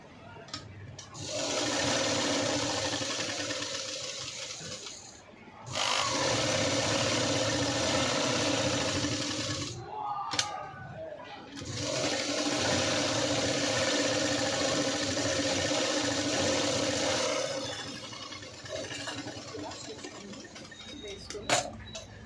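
A sewing machine stitches a V-neck cut-work blouse in long steady runs with a whirring mechanical hum, pausing briefly between runs and stopping near the end, heard close over a quiet room.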